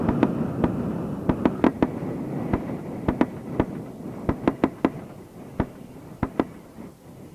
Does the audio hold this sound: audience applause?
no